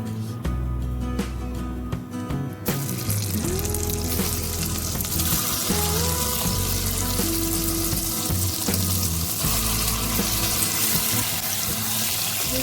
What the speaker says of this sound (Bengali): আমি এখন এর মধ্যে ম্যাশ গাজরটা দিয়ে দিব।